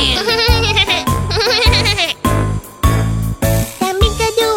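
A small, thin young goat bleats loudly and repeatedly in close, wavering cries, each call breaking off and starting again with no talk over it.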